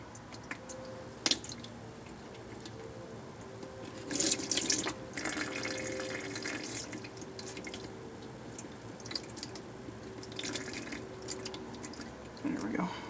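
Manual transmission fluid slowly drains from a 1999-2007 Ford Focus, a soft continuous trickle and drip with a few scattered clinks and splashes, heard up close.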